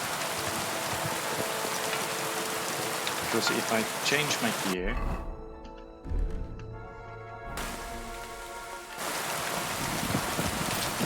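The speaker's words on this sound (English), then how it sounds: "These are the water drops falling on my armor." Dense rain patters steadily on armor in Kingdom Come Deliverance 2, briefly dropping out midway before the downpour returns, with a voice talking over it.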